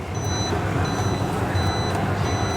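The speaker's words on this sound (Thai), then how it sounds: "ตัวเครื่องตัวเนี้ยมันก็จะร้องว่าเฮ้ย ไม่มีลมยางเลย มันก็จะร้องปี๊บปี๊บปี๊บแบบนี้นะครับ" A 70mai TPMS Lite tire pressure monitor sounds a low-pressure alarm: regular groups of thin, high electronic beeps repeat several times over a steady background rumble of a car, close and clear.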